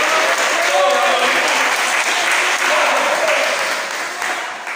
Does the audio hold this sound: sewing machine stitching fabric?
no